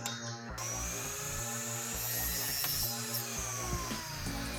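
A power saw cutting a scrap wood piece at an angle for a small mobile stand, giving a steady droning whine with a repeating pulsing rhythm, loud and close.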